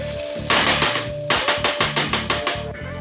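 Ground beef, peas and rice sautéing in a pan, heard as a series of loud, sharp scraping strikes from a utensil against the pan, coming in a quick, fairly regular rhythm, close and clear.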